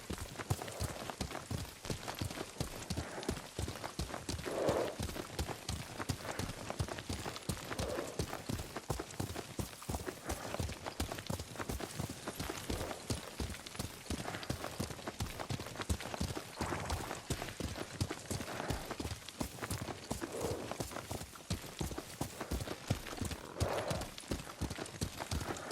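Horse hooves gallop in a fast, continuous clip-clop rhythm across the whole stretch, near and steady, while a rider travels through the world of Ghost of Tsushima and a few brief vocal sounds surface faintly.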